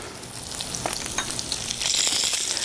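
Breaded salmon sears in a hot non-stick pan on medium to medium-low heat, producing a close, steady crackling sizzle that swells slightly toward the end, with no voices.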